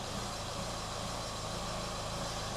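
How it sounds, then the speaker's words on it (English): A 2014 Renault Captur 1.5 diesel engine idles steadily and evenly after start-up, a low, continuous rumble that holds throughout, with no voices. "I'm just going to start it up and let it tick over."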